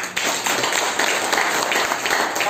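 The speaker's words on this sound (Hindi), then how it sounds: "एक बार ताली हो जाए।" A short burst of audience clapping, dense and steady, fairly loud and close throughout.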